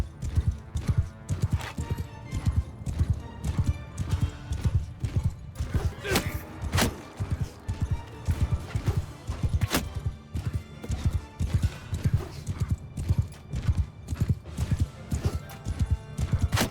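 Cavalry horses gallop in a Mount & Blade 2: Bannerlord battle, with dense rapid hoofbeats thudding in a continuous rolling rhythm and occasional louder impacts layered throughout.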